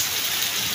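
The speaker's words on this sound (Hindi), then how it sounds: "बारिश बहुत तेज़ हो रही है, साथ जो है ओले भी पड़ रहे हैं।" Heavy rain pours down outside a village shop near Jhelum, mixed with large hailstones, a dense steady hiss close by with no talk over it.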